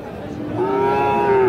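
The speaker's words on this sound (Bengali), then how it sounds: "শাহিওয়াল ষাঁড় বাছুর" A Sahiwal bull calf, seven to eight months old, lets out one loud, rising moo close by at a cattle market, with faint crowd murmur behind.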